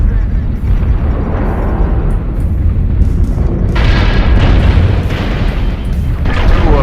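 Missile explosions in the MechWarrior Online mech combat game, a dense, loud rumble of booming impacts that keeps rolling and intensifies midway, heard without talk.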